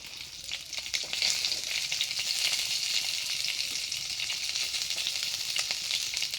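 Fish frying in a pan with a steady crackling sizzle, moderately quiet and continuous with scattered pops and spits throughout.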